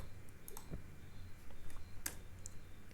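A few sparse, quiet computer keyboard clicks and taps sound in a quiet room, including a sharper single key press.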